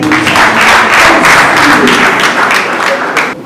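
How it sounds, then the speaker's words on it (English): An audience at a World No Tobacco Day stop-smoking event claps loudly for a few seconds, a rough and uneven patter with some thumps, with faint voices mixed in. "Clap for everybody."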